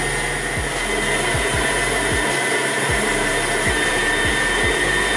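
An electric stand mixer runs at medium speed on rich brioche dough, a loud steady motor whine with a rhythmic thump as the dough slaps around the bowl, close and with no talking.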